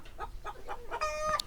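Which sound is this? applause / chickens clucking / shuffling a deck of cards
chickens clucking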